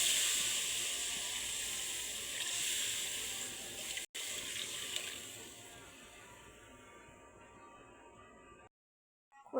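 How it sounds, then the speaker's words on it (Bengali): Water poured into a pan of fried taro roots, a steady hissing rush with sizzle that runs for several seconds, briefly cuts out, then fades before ending in near silence. "এবারে আমি দিয়ে দেবো জল"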